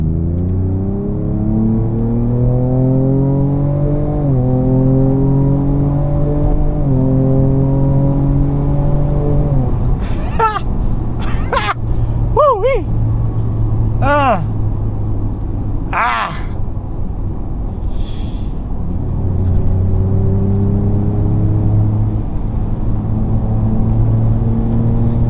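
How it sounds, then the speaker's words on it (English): A 2024 Ford Ranger Raptor with a 3.0L V6, driven in Baja mode, sends out loud exhaust that climbs in pitch through repeated gear pulls, with several sharp rev blips in the middle before the steady drone resumes. "Let's hear the exhaust sound."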